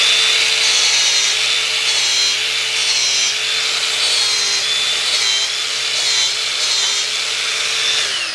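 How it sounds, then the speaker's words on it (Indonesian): A power tool polishing rust off iron, a loud, continuous high-pitched whirring grind with a faint rhythmic wavering as the tool moves over the metal, close up and steady throughout. "Nah, dia kalau misalnya ada yang berkarat, nah ini kita bisa poles tanpa merusak."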